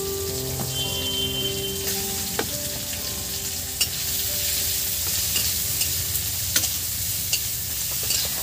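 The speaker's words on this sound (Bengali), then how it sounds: "এবার কুচি করা এই পেঁয়াজগুলো দিয়ে দিলাম" Chopped onions hit hot oil in a pan for a fish-head mung dal, giving a loud, close, steady sizzle with repeated stirring clinks and scrapes and some faint tonal kitchen sounds early on, with no voice.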